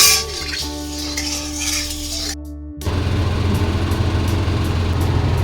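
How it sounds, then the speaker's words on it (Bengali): Three koi fish dropped into hot salted oil in a wok, a loud steady sizzle swelling up after a brief pause and holding close and continuous, with faint clinks of utensils earlier. "এই সময় আমি তিনটে মাছ দিলাম দেখো বন্ধুরা এইভাবে মাছ ভাজলে খুব একটা ছিটকাবে না"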